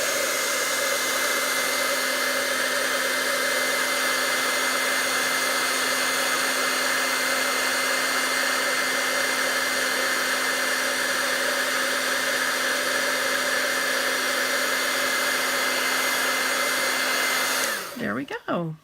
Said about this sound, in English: And then we're going to come in with our heat tool again,